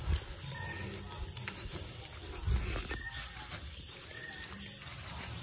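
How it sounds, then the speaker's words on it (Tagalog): Crickets chirp steadily in the dark countryside of Sorsogon, Philippines, a thin high trill over low rustling and faint distant rumble. "Narinig mo yung kuliglig."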